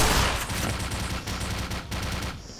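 Gunfire in the video game Black Mesa, a loud close burst of rapid automatic shots rattling for nearly three seconds before trailing off.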